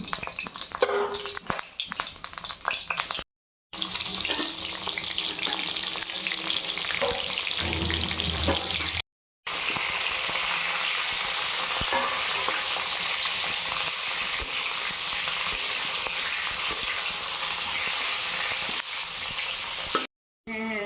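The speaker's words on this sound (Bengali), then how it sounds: "এটা আমি ভালো করে লাল করে ভেজে নেব।" Eggplant slices coated in salt and turmeric fry in hot oil in a wok, a continuous crackling sizzle broken by a few brief silent cuts and occasional stirring clinks.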